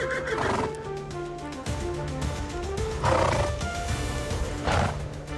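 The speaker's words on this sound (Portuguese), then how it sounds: "O som dos cascos e os relinchos ecoam pelas pastagens." Horses neighing loudly in open pasture, three drawn-out whinnies rising over a steady rumble of hoofbeats and herd noise, close and resonant.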